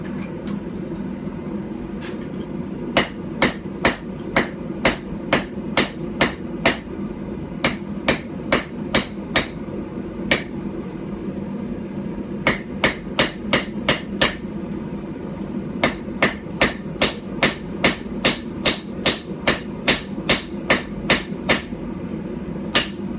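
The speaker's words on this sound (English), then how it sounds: "I'm also having to be way more careful with my strikes because that is a tiny, tiny anvil." Hammer blows forging metal on a tiny, unstable stump anvil driven into firewood, sharp ringing strikes in quick bursts of several, pausing between runs, close and clear over a low background hum.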